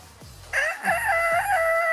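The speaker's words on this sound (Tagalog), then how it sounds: "Paano yung tilaok ng manok ni Ian?" A rooster crows loudly and close by, a long drawn-out cock-a-doodle-doo rising and holding, with faint clucking from other fowl beneath, in a Philippine neighborhood.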